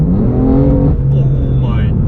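A BMW M4 F82 with an Akrapovič exhaust, a loud close engine note that revs and holds, then drops off, with a rising whine near the end; people talk over it.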